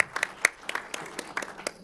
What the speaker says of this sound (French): Vous pouvez applaudir, oui.